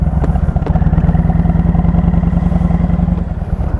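A Yamaha MT-01 motorcycle engine runs close by with a steady, rhythmic thumping idle, loud and even throughout.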